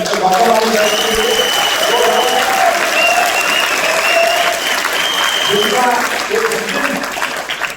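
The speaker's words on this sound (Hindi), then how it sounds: "एक बार जोरदार तालियां हमारे एमडी सर" At a direct-selling company meeting, a large crowd gives loud, sustained applause for the managing director, with raised voices and cheering tones running over the clapping from start to finish.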